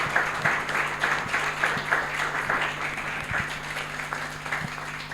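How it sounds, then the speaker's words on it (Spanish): A small audience at a university talk claps steadily for several seconds, a light, moderately distant patter of hands with a faint voice or two in the room. "renovemos el aplauso para Gaby y los Tomases."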